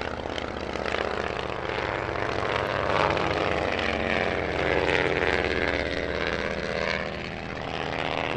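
A 1929 Civilian Coupe, a two-seat vintage monoplane, drones steadily with its propeller engine at an airshow, a loud continuous roar that swells slightly as it passes, with no voices.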